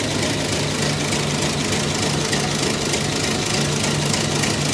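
A roughly hundred-year-old Ford Model T engine, cold and running rough on magneto, idles nearby with a steady low chugging throb and slightly uneven knocking pulses, constant throughout without speech.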